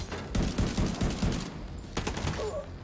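Rapid bursts of gunfire in the video game The Division 2, a close, dense fusillade of shots in two clusters separated by a brief lull, with no speech over it.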